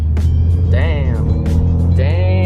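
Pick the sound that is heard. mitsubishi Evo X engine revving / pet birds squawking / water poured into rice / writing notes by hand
mitsubishi Evo X engine revving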